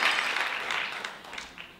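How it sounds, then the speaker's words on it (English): Live audience at a stand-up comedy concert applauding, a dense wash of clapping that starts full and gradually thins over a couple of seconds. "this time it should be with claps"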